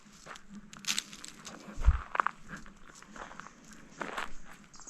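Footsteps crunch over rough ground outdoors, a faint, uneven run of soft steps with a few louder scuffs.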